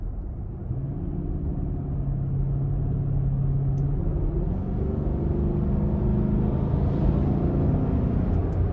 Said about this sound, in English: I'm really liking how aggressive the V8 sounds without it being loud. It's just a slight rumble.